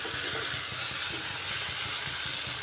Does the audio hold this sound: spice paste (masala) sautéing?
yes